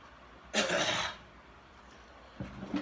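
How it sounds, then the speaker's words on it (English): A close, forceful nose blow sounds once in a rough burst, followed by a second shorter snort, with no talking. "Hold on, I'm gonna blow my nose real quick."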